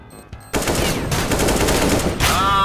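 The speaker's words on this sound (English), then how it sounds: "Ah, dude, the shotgun!" Rapid shotgun blasts in Counter-Strike: Global Offensive, a loud shot ringing out followed by a dense run of firing and another sharp report near the end.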